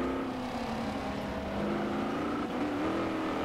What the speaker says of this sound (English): the AMG sounds really good